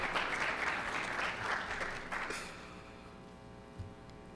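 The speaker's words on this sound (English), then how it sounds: "Family, feel free to clap for your student if you'd like." Families applaud students at a student employee of the year award ceremony, a burst of clapping from a crowd that is strong for two seconds, then thins and fades to sparse claps.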